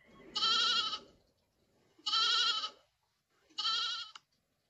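A sheep bleats three times in a steady rhythm, each cry loud, close and wavering, with short quiet gaps between them and nothing else audible.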